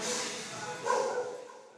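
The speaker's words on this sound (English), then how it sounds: "Hanging out with the little puppies." Puppies in the quarantine puppy area of an animal sanctuary in Klagenfurt, Austria, give a few short, high yips and barks nearby over a steady background hum.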